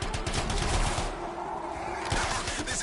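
Gunfire in the video game Anthem: rapid automatic bursts rattle in close, pause briefly mid-way, then resume with more shots, all fairly loud.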